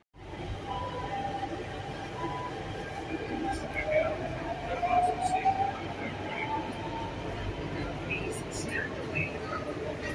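Steady low rumble and rolling hum of a Delhi Metro car in motion, with faint squeals and brakes rising briefly, heard from inside the carriage.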